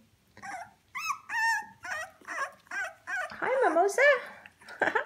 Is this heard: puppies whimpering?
yes